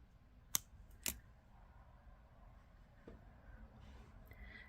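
Two crisp scissor snips cut bracelet stringing wire in quick succession, close and quiet, followed by soft handling noises in a still room.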